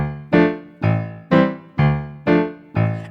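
Piano plays a tune recast in an even 2/4 feel, six strong chords struck at a steady pulse, each ringing and decaying before the next, close and clear with no talking.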